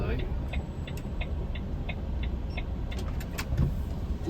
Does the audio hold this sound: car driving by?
yes